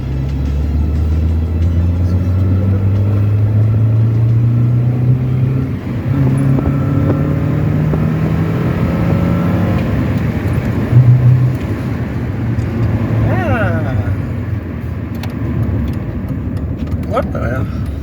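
A MINI One 1.6 16v car accelerates gently, its engine note climbing steadily in a loud, close drone, then settling as it runs on, with people talking inside the car over the sound.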